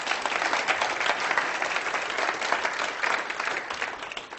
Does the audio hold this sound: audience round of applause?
yes